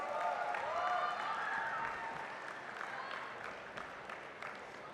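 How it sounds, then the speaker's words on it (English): A crowd in a conference hall at a creator economy event applauding steadily, clapping dense and continuous throughout, with a few voices faintly audible underneath. "Can we have a huge round of applause for them, guys?"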